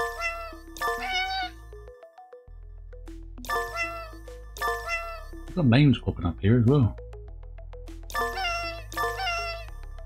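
Cartoon cats meow repeatedly in the video game 100 Cats New York, a cluster of loud, wavering cries standing out mid-clip over a soft game soundtrack with chimes, while someone talks before and after.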